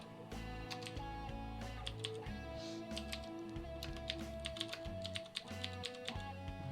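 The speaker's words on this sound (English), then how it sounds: "I know you already see what I'm typing." Computer keyboard typing runs steadily throughout, its light taps and clicks sitting over a continuous bed of music or game sound during a gaming stream, with no talk.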